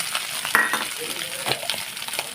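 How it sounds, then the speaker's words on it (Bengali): Washed, drained soybeans fry in hot oil in a pan, giving a soft, continuous sizzle close by. A spoon stirs them, with light scraping and a few sharp metallic clinks. "তেলটা ভালোভাবে গরম হয়ে গেছে সোয়াবিনগুলো ভালো করে ধুয়ে জল ঝাড়িয়ে নিয়ে ভেজে নেব"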